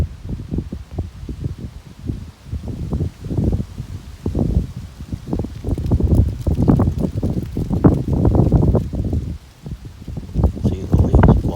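Gusty wind blowing leaves outdoors in a horse-training pen, rushing in uneven surges with rustling bursts that build louder toward the end; close microphone buffeting, no talk.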